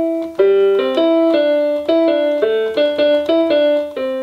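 A piano plays a riff melody, clean repeated two-note chords in a steady rhythm, close and clear, with no talk.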